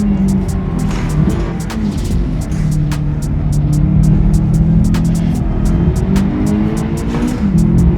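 A stock Subaru WRX STI on a track gives a loud, continuous engine drone that rises and falls through corners, with repeated sharp ticks and clicks over it.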